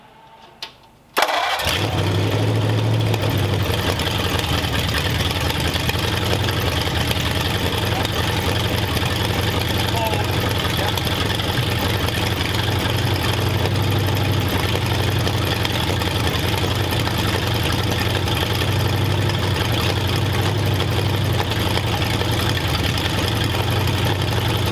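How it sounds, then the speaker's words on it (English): A hopped-up flathead engine for a 1932 roadster cranks and catches after a brief pause, then settles into a steady, loud, continuous idle with a low rumbling throb that holds to the end. "Got it idling pretty good."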